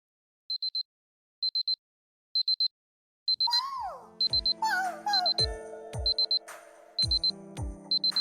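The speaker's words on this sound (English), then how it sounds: "My alarm." Electronic alarm clock beeping in a Fate/Grand Order cutscene, bursts of quick high beeps in a steady pattern, first alone, then continuing under bright music and chiming effects.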